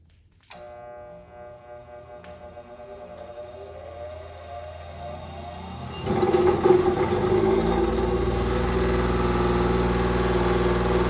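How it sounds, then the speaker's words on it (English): Electric grinder switched on after being plugged into a newly installed outlet, motor spinning up with a rising whine and then running steadily and loudly. "Now my grinder's plugged in. Let's see if it works."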